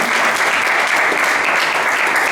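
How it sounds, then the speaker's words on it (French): A church congregation applauding during a service, a loud dense burst of many hands clapping together at close range, sustained without a break. "Applaudissons pour Jésus."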